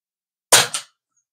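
A budget PCP air rifle fires an 18-grain Velocity pellet at a 35-metre target, one sharp, loud crack followed by a brief second report.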